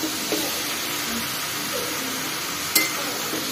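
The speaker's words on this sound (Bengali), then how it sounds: "তো চলো আমটা দিয়ে ভাজা ভাজা করে নিই" Jackfruit pickle being fried with mango in a pan, a steady sizzle with occasional stirring scrapes and a light clink, no talk.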